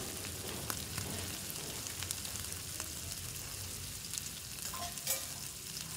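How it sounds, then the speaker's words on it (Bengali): Katla fish head fries in oil on a low flame, a steady soft sizzle and crackle throughout with occasional small pops, fairly quiet and close. "আঁচ কম করে দিয়েছি, কম করে দিয়ে কম আছে এটা ভাজা হবে।"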